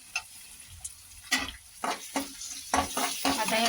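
Sautéed tomatoes with red chilli and coriander stirred in a pan for peanut curry, a few separate scraping strokes and soft sizzling bursts in quick, uneven succession.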